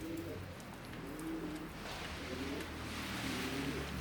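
Pigeons, including tumblers, coo in low, repeated throaty calls inside a coop against a steady background rumble, several birds close by with no talking.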